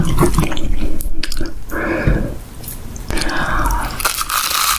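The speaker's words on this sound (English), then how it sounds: "And crunching into shrimp." Crisp, wet crunching from someone biting into shrimp for a mukbang ASMR eating session, close to the mic, with a few separate bites and chewing over a dense, constant texture.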